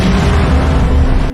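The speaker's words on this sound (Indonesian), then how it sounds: "Tak berapa lama waktu sudah habis dan tempat tersebut pun meledak" A building blows up in the war film The Underground War, a loud, sustained roaring blast with deep rumbling that fills the moment alone before cutting off abruptly at the end.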